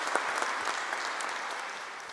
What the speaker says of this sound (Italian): Con tutto il cuore è l'applauso che vi facciamo noi e i frati